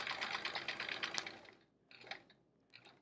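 Sewing machine free-motion quilting a chevron fill with a ruler: a fast buzzing stitch run that stops, then two shorter bursts follow after brief pauses.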